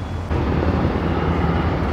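A helicopter flies over the harbor at Yokosuka at night, its engine a loud, steady low rumble that swells abruptly after a short quieter start and then holds.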